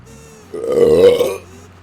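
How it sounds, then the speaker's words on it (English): A single loud, deep burp from a man, close to the microphone, lasting about a second. Quiet background comes before and after it. "Oh, why do I burp every episode?"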